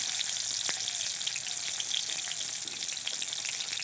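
Onions dropped into hot oil for an Assamese-style small fish curry, sizzling in a steady bright hiss with scattered crackles and one sharp pop, close and alone.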